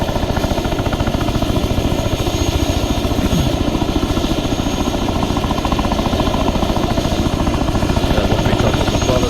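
A Chinook helicopter in the military game Arma 3 drones steadily with rapid rotor thumping, loud and close throughout, without a break.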